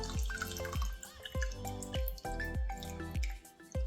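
Water drains from blanched spinach (palak) in a series of close, rhythmic drips and plops, each drop ringing briefly with a liquid tone.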